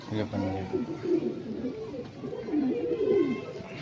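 Lokhande pigeons, a female among them, give low, rolling coos close by while someone talks over them throughout.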